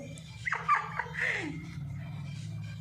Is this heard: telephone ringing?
no